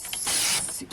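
Craft card is cut with a trimmer: a short, close mechanical slide and scrape lasting about half a second, followed by a faint click.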